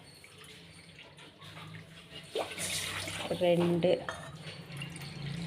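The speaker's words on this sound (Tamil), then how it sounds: "அதுக்கு 3 கப்பு தண்ணி ஊற்றிக்கலாம்." Water splashes and trickles as it is poured from a cup into a kadai for rava kesari, a short pour in the middle amid kitchen clatter, with someone speaking over it.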